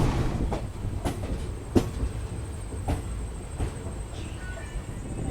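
Inside a sleeper coach of the Raxaul Howrah Express, the train rumbles along with a steady low roar and periodic sharp clacks of wheels over rail joints.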